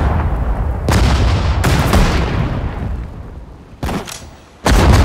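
Several loud, booming gunshots in Sudden Strike 4, a Pacific War strategy game, go off alone at irregular intervals, each a sharp blast with a heavy low rumble that decays slowly.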